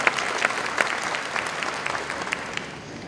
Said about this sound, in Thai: ขอเสียงปรบมือต้อนรับท่านวิทยากรของเราครับ